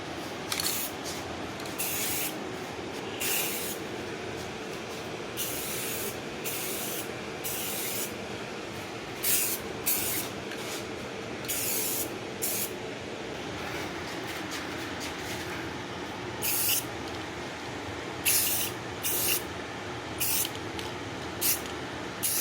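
An aerosol spray paint can lays down a light, thin coat in a restoration job, with repeated short hissing bursts of varying length, close and fairly loud, and no talking.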